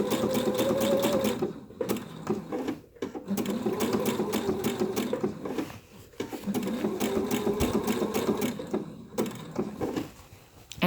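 A domestic sewing machine stitches machine appliqué around a curve. It runs in steady whirring bursts with short stops between them, close and loud, with no talking.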